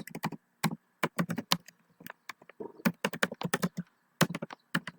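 Keys clatter on a computer keyboard while a SQL insert statement is typed, in quick irregular bursts of close, crisp clicks broken by short pauses. No one speaks.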